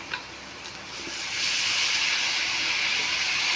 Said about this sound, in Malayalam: നമ്മളിതിൽ കുറച്ച് ഒരു ഒരു ഗ്ലാസ് വെള്ളം വീഴ്ത്തണം